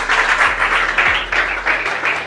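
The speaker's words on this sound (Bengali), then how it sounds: "জোরদার হাততালি এটার জন্য একবার।" Audience applause at a gathering, dense and loud clapping sustained evenly throughout without voices on top.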